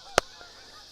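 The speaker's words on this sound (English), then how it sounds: "Hear those birds? There they go. Little migration." A single loud goose-like honk from a migrating bird flying overhead, followed by a much fainter second call, with quiet outdoor air around it.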